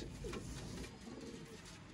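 Sialkoti pigeons give low, faint cooing calls, a soft murmur in a quiet space with no talk.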